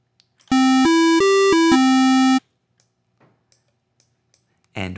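A synthesizer square wave plays a buzzy, hollow tone that steps through a few short pitches over about two seconds, then stops, leaving near silence with faint ticks before a low sound enters at the end.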